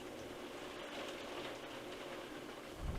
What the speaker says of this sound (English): Oh man, that rain.